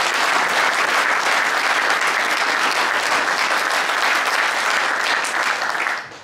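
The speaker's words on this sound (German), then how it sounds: "Applaus" A large audience at a German award ceremony for the Werner-Bonhoff prize applauds loudly and steadily, a dense wash of clapping that holds for about six seconds before fading out at the end.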